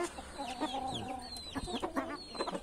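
Hens, including a naked-neck breed, clucking close by in a backyard flock, several overlapping birds making short repeated clucks and brief higher calls, fairly quiet with no talk.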